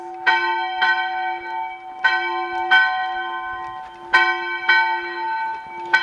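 Church bells in Puente La Reina, Spain, ring for morning mass, loud and close in irregular strokes, each clang leaving a long shimmering hum that overlaps the next, with no voices.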